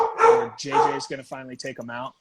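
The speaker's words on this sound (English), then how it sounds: "Sorry for my dogs barking in the background" Dogs bark in the background of a podcast, sharp yips and barks mixed in with a man's close, continuous talking.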